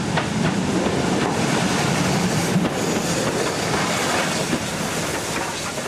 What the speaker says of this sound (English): Arriving into Ingro West Station is a triple heading service led by the ex-Lancashire and Yorkshire Railway Class 25, with the LMS Ginty next.